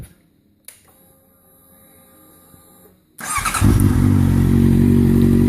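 After a couple of seconds of faint hum and a click, a 2014 Honda CBR650F with a Yoshimura aftermarket silencer on the stock header fires up close by and settles into a loud, steady, deep idle.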